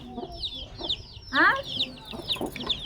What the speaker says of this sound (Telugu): కోళ్ళు వస్తున్నాయి కోళ్ళు వస్తున్నాయి